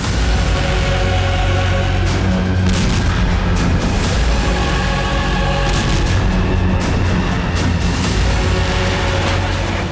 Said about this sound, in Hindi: कलेजा कपाने वाले ऐसे विस्फोट पिछले 7 दिनों में 24 घंटे हो रहे हैं।